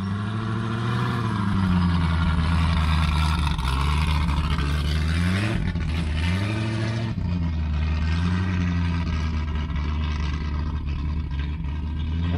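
A twin supercharged Ultra4 IFS off-road racer called Medusa drives after warming up, its engine a loud, continuous rumble whose pitch dips and rises a few times.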